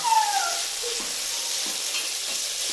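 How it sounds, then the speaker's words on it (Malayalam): Rock salt being stirred into food in a hot pan: a steady faint hiss of frying with a few soft scraping stirs, and a brief thin squeak at the start. "കല്ലുപ്പ് ചേർത്തിട്ട് ഒന്ന് ഇളക്കി യോജിപ്പിക്കുന്നു."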